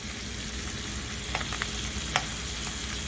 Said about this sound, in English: Something about the fat and the Brussels sprout, I don't know if it's the moisture contact, but they start to pop